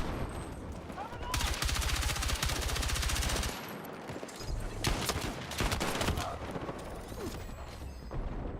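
Gunfire in a Battlefield match, rapid automatic bursts and scattered shots rattling loudly in clusters, with a brief lull in the middle, under a voice talking.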